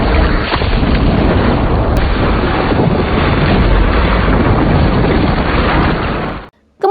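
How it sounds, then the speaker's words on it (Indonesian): A loud, sustained explosion as a mountain is blasted apart during excavation in the film Troll (2022), a heavy rumbling roar that fills about six seconds before cutting off abruptly. "para pekerja diminta untuk meledakkan gunung tersebut"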